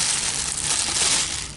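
A small plastic bag is handled up close, a steady crinkling and rustling that fills the short moment without any talk.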